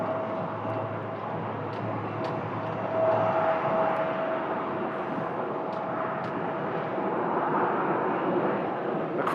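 Jet airliner at Phoenix Sky Harbor Airport, arriving from Houston, gives off a steady, distant engine roar with a faint sustained whine that swells slightly midway, heard alone without talk.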